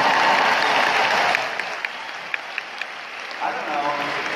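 Audience applause at a corporate speech by a Shaklee CEO, clapping that starts fairly full and thins out after a second or so, continuing more faintly with scattered claps.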